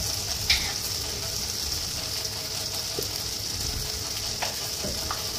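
Tomatoes fry with spices in a pan for a fish curry, a steady close sizzle with occasional light scrapes and stirring clicks of a spatula.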